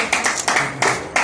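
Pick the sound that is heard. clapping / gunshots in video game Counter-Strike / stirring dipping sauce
clapping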